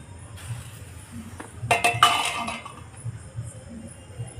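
A metal lid lifted off a pan of eggless biscuit cake, a cluster of close, bright clinks and scrapes in the middle, with quiet rustling before and after.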